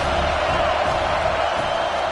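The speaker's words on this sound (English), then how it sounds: "This crowd trying to make life miserable for this offense" A stadium crowd at a Georgia college football game roars in a steady, dense wall of noise throughout, with no clear breaks or individual voices standing out.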